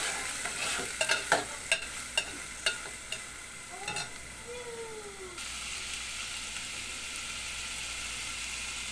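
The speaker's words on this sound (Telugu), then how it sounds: "పచ్చిమిరపకాయలు, ఇదిగోండి ఉల్లిగడ్డలు, ఉల్లిపాయలు ఇలా వేసి వేయించుకోవాలి." Onions and green chillies frying in a pan give a steady sizzle after a few sharp clinks of a spoon stirring against the cookware, close and fairly loud, with no talking.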